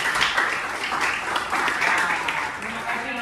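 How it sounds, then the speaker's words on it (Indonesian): Steady applause from a group at a school gathering after a floor gymnastics presentation, with continuous clapping and voices mixed in. "Berikan tepuk tangan dulu untuk videonya"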